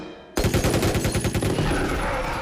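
Rapid automatic gunfire in a Jurassic World movie scene, bursting in suddenly after near-silence and continuing as a loud, dense rattle of repeated shots.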